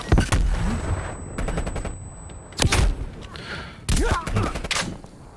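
Video game shooter gunfire with shotgun and magnum blasts, several loud sharp bursts and rapid shots close by, separated by brief gaps, with a player's voice talking between them.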